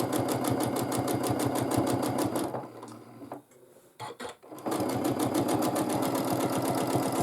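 A sewing machine running steadily for free motion quilting, its needle clattering in a fast even rhythm up close, pausing briefly with a few soft bumps before resuming at full speed.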